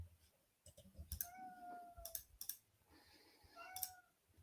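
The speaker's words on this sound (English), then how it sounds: "will you tell your cat to shut up, please?" A house cat meows twice, short rising cries close to the microphone, between sharp clicks and light background chatter.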